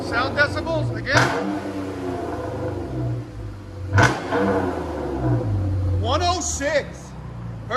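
A 2016 Chrysler 200 V6 with a straight-piped dual exhaust, muffler and resonator removed, gives a few sharp revs over a low idle rumble, close and loud, while people talk nearby.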